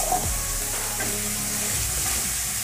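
Bagda prawn kalia masala frying in oil in a pan, a close steady sizzle with soft stirring scrapes, no voices.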